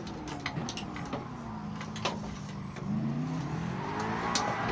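A race car spins out during a GT Open online lobby race in a racing video game, its engine droning and shifting pitch with scattered clicks and knocks, and no talk over it.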